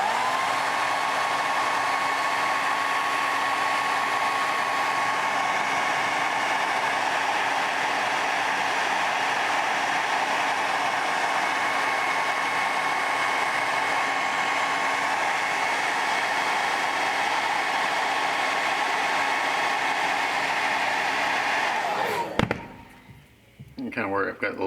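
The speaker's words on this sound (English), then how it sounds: "Let's hit that with the hair dryer." A hair dryer blows steadily and loudly on wet paint on a rhino portrait, a constant whooshing roar that runs for over twenty seconds before switching off abruptly.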